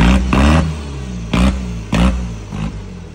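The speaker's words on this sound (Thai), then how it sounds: "ลองเหยียดทางหน่อยดิฟังเสียงดิ" A motorcycle engine is blipped with the throttle in four sharp revs, each a short loud burst rising over a lumpy idle, with the first rev longest and the later ones quicker and weaker.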